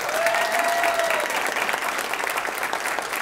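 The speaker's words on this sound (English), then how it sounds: "Give them a round of applause, please." Diners at an academy scholarship dinner applaud scholarship recipients and students of the month. The sustained, lively clapping fills the room throughout, with a brief whistle early on.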